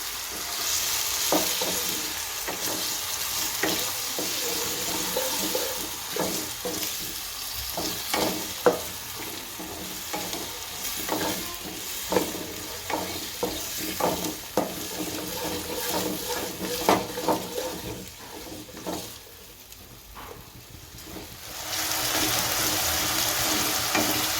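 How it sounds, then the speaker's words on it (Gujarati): Potatoes cooking in a pan for white sabudana khichdi give a steady close sizzle with repeated scraping stir strokes, a quieter patch near the end before the frying hiss swells again; no one speaks. "હવે બટેકા નાખશું અને ચડવી નાખશું હાલા"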